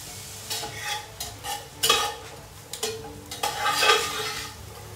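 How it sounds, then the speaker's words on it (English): Onions and apples frying in butter in an iron spider pan over an open hearth, sizzling steadily while a spoon scrapes and stirs in repeated strokes with occasional clanks against the metal. "So once your onions and your apples is in, and you stir them around a bit, and they start to cook"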